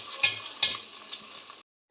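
Soaked basmati rice is stirred into hot oil with masala for coconut rice: a bright hissing fry punctuated by a couple of sharp spoon scrapes, then a brief silence before the sizzle resumes.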